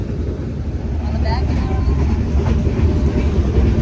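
Steady low rumble and rattling of a moving train on the Gadwal to Tirupati route, continuous and loud throughout, with faint voices mixed in.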